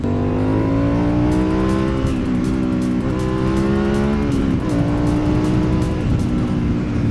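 A new Yamaha MT-09 SP motorcycle, still being run in, accelerates past, its loud engine note climbing in pitch through several rising sweeps and gear changes, close and continuous with no talking.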